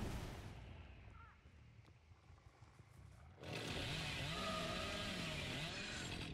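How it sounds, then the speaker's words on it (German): A chainsaw in the horror game Dead by Daylight revs up loudly and grinds into a wall, a harsh continuous roar that kicks in halfway through after a quieter ambient stretch, with no one talking. "da habe ich ein bisschen gegen die Wand gesägt"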